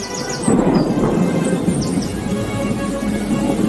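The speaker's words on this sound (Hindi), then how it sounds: "दोनों पति पत्नी रात भर अपने बच्चों के साथ बैठकर बारिश के रुकने का इंतजार कर रहे थे, लेकिन बारिश नहीं रुकी।" Cartoon rainstorm with heavy rain and rolling thunder rumbling low and loud across the clip, with faint bird-like chirps high above the downpour.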